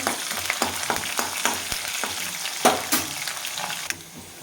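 Garlic, curry leaves and chilli fry in hot oil for a star fruit pickle, a close crackling sizzle punctuated by repeated scraping stirs of a spoon against the pan.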